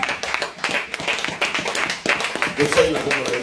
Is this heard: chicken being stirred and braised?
no